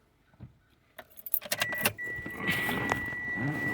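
Car keys jangle in several quick metallic bursts close by during a taillight and reverse camera install on a Vios Gen 2, followed by a steady electrical tone and soft rustling.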